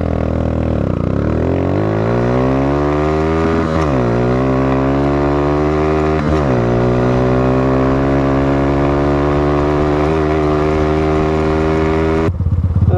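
A Yamaha FZ16 190cc motorcycle in a quarter-mile speed test, its engine revving up loudly and repeatedly climbing through the gears with rising pitch and brief dips at each shift, close and continuous.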